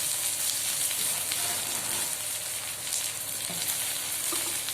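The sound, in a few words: onion and green chili frying in pan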